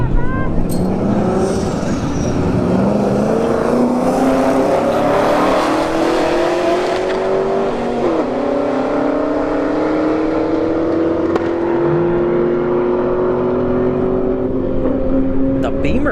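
At a drag strip, a Camaro SS and a BMW 335i launch side by side, their engines revving loud and climbing steadily in pitch as they race away, with an announcer talking over the roar.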